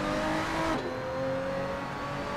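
A race car lapping Laguna Seca in Assetto Corsa, a loud engine close up that holds a high steady tone, then shifts pitch sharply as it changes gear and keeps driving hard.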